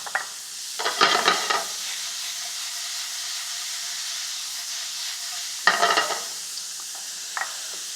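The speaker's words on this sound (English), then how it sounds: "I'm going to introduce a little bit of onion, and I've chopped it very fine so that it will cook almost instantly" Finely chopped onion sizzles in a pan, a steady soft hiss broken by two bursts of stirring and scraping, with no voices.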